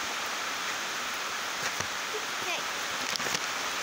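Steady rain pours down outdoors near a horse stable, a dense constant hiss throughout, with a few brief voices breaking in near the end.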